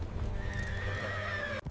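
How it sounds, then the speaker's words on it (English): Horses neighing with a drawn-out whinny over a low rumbling gallop of hooves, loud and close, cut off abruptly at the end. "their horses kicking up clouds of red dust as they raced toward the mountains"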